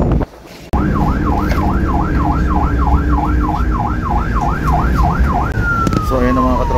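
A police siren wails in a fast, regular up-and-down pattern, loud and near, over heavy rain and traffic noise on a wet road at an accident scene, then slides into a brief warbling yelp.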